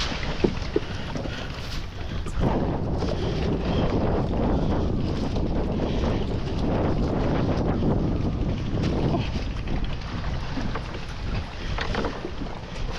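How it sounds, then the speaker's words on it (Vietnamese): Strong wind roars steadily across the microphone aboard a small fishing boat out at sea, with water splashing and the hull rocking, loud and continuous throughout. "Quá trời gió luôn cả nhà."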